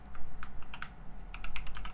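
Quick bursts of keystrokes on a computer keyboard, close and crisp, come in two uneven runs with a brief pause between them.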